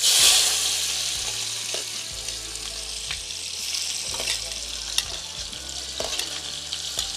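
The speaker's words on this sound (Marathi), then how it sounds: "तर त्या तेलात आता मी टाकते कांदा." Chopped onion sizzles and fries steadily in hot oil in a kadhai on the stove, a loud initial burst settling into continuous crackle with a few stirring clicks, no talking.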